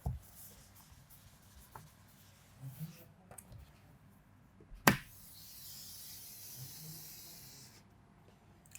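Chalk or marker drawing lines of a periodic table on a classroom board, faint scratchy strokes with one sharp knock near the middle followed by a longer sustained hissy stroke.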